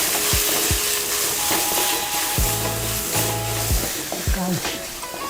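Vegetables stir-fry in a pan with ginger, garlic, pepper powder, carrot, tomato, onion and cabbage, a steady loud sizzle throughout, punctuated by repeated scraping strokes of a spatula against the pan.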